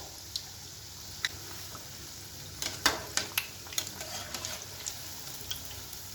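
Potato vada balls frying in hot oil give a soft, steady sizzle, faint and close, with scattered sharp pops and crackles that cluster in the second half.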